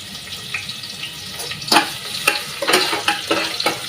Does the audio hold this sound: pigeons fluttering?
no